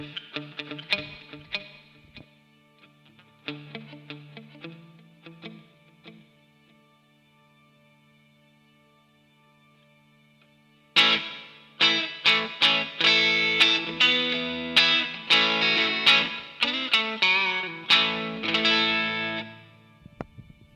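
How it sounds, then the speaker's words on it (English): An electric guitar through a Boss GT-1000 plays clean picked notes that ring out into a long, dark hall reverb tail, then returns louder with sustained chords washing into the echoing space. "The hall is the second reverb, a slightly longer time, made it quite dark and a low"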